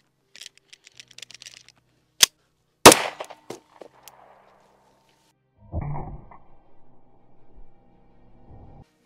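A point-blank pistol shot with a 124 grain HST bullet cracks once sharply, surrounded by faint clicks and handling noises, then a muffled thump and rustling afterward.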